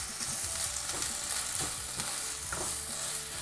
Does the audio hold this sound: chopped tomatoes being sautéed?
yes